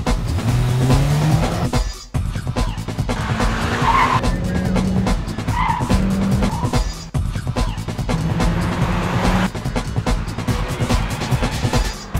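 A 2008 Mitsubishi Lancer Evolution 10 with an automatic gearbox, in super sport mode, launches hard with loud tire squeal and engine roar lasting the whole stretch, briefly dipping twice as it shifts.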